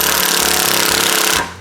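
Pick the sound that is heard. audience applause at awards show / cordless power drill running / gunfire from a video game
cordless power drill running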